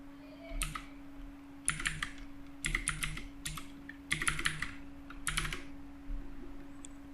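Bursts of typing on a computer keyboard while entering data into a database table, several rapid clusters of clicking keys separated by short pauses over a steady low hum.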